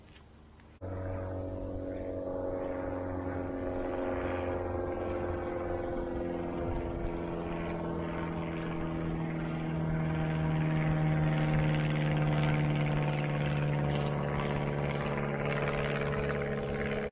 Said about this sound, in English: It's the chopper.